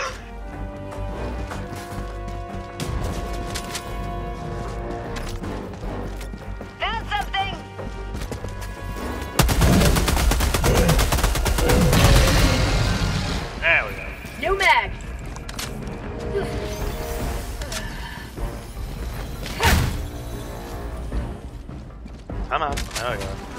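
Gunfire and explosions from the Helldivers 2 shooter game, with a loud burst of sustained firing in the middle and scattered shots and impacts around it, while someone talks throughout.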